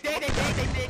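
Gunfire in a Free Fire match, heard as a short, loud, sharp burst of shots lasting under a second, close and dense.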